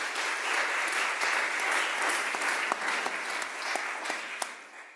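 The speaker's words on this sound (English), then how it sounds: "So if we can give a round of applause to just everyone who came to speak today." An audience at a symposium on immigration law and asylum gives a round of applause for the speakers, with dense, steady clapping from a room full of people lasting several seconds.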